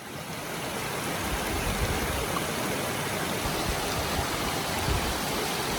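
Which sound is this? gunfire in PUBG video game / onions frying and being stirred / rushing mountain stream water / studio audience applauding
rushing mountain stream water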